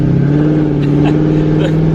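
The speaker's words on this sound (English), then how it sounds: "I'll give it a little rev" Corvette Z06 with long tube headers and aftermarket exhaust, engine revving loudly up close in a short steady burst with a strong low harmonic drone.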